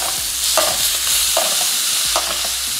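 A thick tomahawk steak sizzles loudly in a hot pan as it is basted, with a steady close hiss and a few sharp spoon scrapes against the pan breaking through at intervals; no one speaks.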